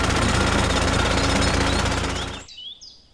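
Animated drill chewing through a water pipe with a loud, fast hammering rattle for a few seconds, then it cuts off abruptly, leaving faint high chirps and near quiet.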